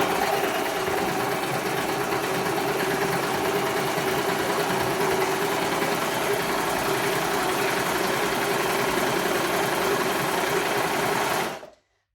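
A Baby Lock Desire3 combination sewing machine stitches through fabric with a steady, close, even motor whir and rapid needle rhythm, running continuously before cutting off abruptly at the end.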